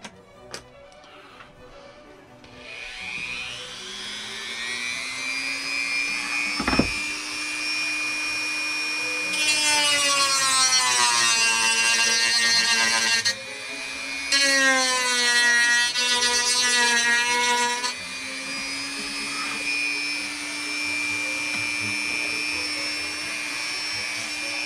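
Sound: Dremel sander profiling wood on model ship

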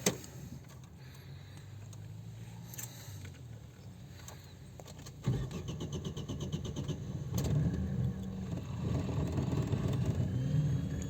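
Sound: car engine started with ignition, running rough and revving

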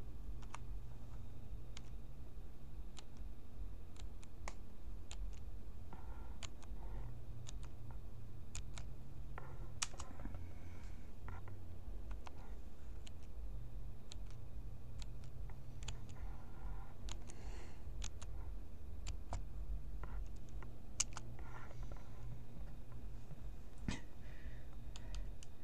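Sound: typing a password on a computer keyboard

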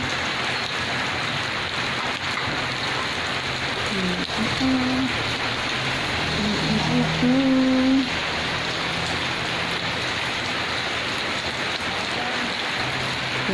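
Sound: rain falling

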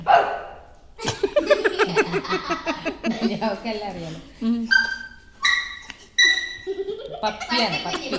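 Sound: child imitating a dog barking

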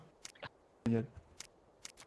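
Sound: computer keyboard clicking

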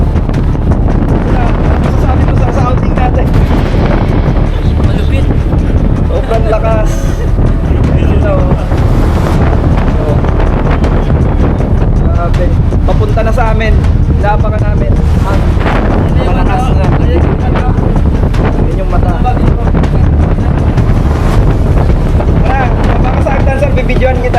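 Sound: strong wind on open sea

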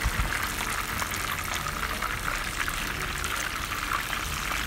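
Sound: chicken frying in oil

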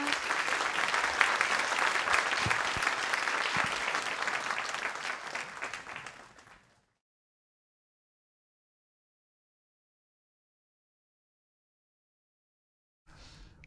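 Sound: audience applause for the speakers

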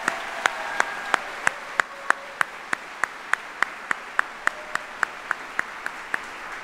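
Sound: audience applause for the Army band

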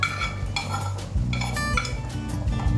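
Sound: stirring feijoada with sofrito in a pot

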